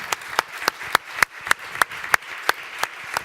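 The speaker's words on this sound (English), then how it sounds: "Let's give them a round of applause." An audience claps for the panelists after a debate on the 2019 European elections: crisp, evenly spaced claps from only a few hands, close and distinct, with no voices.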